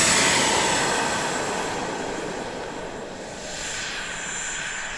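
A T-7A 80mm ducted-fan RC model jet flies overhead, its loud, steady whooshing whine filling the air and easing slightly as it passes.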